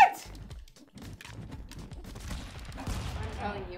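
Rapid bursts of gunfire from the game Stick Fight crackle in quick succession under an excited voice and busy game noise, getting denser toward the end.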